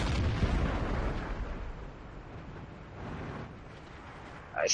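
Tank gun fire in the World of Tanks video game, a loud booming blast at the start that fades into a rumbling decay, followed by a sharp whistling streak near the end.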